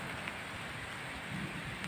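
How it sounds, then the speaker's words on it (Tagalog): Light drizzle falling over an overgrown farm field, a steady soft hiss of rain with no talk. "umaambon po rito ngayon"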